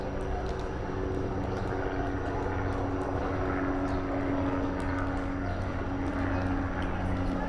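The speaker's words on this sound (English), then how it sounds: "Well, the helicopter's here." A helicopter flying overhead above a Manhattan street, its rotor drone steady and fairly distant, with faint street noise underneath and no clear voices.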